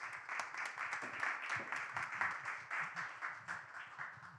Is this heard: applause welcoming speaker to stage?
yes